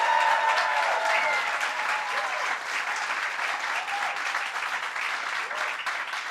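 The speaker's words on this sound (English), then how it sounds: "let's give him a round of applause" A large crowd applauds steadily at an outdoor NYC Pride event, a dense, sustained wash of clapping with cheers rising through it, moderately loud and continuous.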